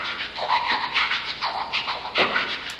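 Mouth percussion recorded through earphones: a steady groove of breathy puffs, clicks and hissy bursts, fairly close and even in loudness, with no talking.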